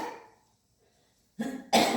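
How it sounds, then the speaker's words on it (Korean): A person coughs during a church worship service, two harsh bursts close together after speech fades, loud and near. "기침을 하니 나도 하네요"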